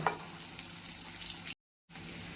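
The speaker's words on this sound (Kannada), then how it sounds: "ಈರುಳ್ಳಿ ಚೆನ್ನಾಗಿ ಫ್ರೈ ಆಗಿ ಕಂದು ಬಣ್ಣಕ್ಕೆ ಬಂದಿದೆ" Onions frying in hot oil until browned: a steady, close, dense sizzle that cuts out abruptly for a moment before resuming.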